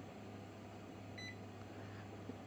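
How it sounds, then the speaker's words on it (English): Toshiba e-studio copier entering service mode gives one short, clear electronic beep partway through, set against a steady low machine hum and quiet room noise. "Then you'll hear it beep."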